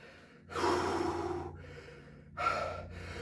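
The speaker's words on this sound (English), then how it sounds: "As you can hear, I'm completely out of breath." Heavy, labored breathing from a person worn out by exercise sets in a home workout, two long gasping exhales separated by a quieter pause, close and fairly loud with no talking.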